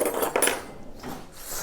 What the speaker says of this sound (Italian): posate.